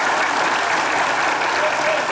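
Dense, loud applause from a studio audience on a Turkish comedy show, a continuous wash of clapping hands filling the whole stretch at close range.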